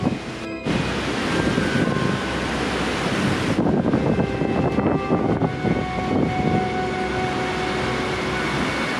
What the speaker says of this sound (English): I'd say the winds on the surface here are easily gusting to 40 and 50 miles an hour right now